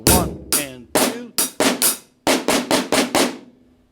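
Drum kit fill: about a dozen sharp, ringing hits in quick uneven bursts, close and fairly loud with short decays between strikes, played alone.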